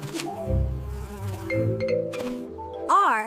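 Buzzing of a quaking minor bee, presented as an animal sound for children, with a wavering droning tone that rises briefly near the end over a brief music-like backing.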